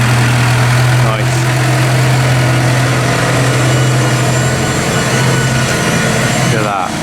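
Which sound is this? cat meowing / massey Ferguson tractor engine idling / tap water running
massey Ferguson tractor engine idling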